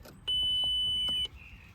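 A Volkswagen Passat dashboard sounds a single steady, clear electronic warning chime for a low oil level, held for about a second over quiet cabin noise with no talking.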